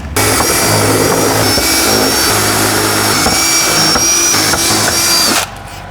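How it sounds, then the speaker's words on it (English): A power drill with an 11mm bit bores out holes to fit jack nuts for a front splitter on a Hyundai i30N hatch, whining loud and steady for about five seconds before stopping abruptly. "We're going to take our 11mm drill bit and widen those holes a little bit more so that we can fit the jack nuts in."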